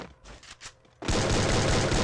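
Sustained burst of M14 rifle fire in the video game Free Fire, beginning abruptly after a quieter stretch of faint game sounds and running loud and dense to the end.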